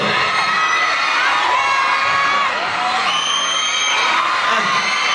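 A loud crowd at a Ts6 Talk event in Chonburi, Thailand cheers and whoops, with many high excited voices, children among them, shouting together.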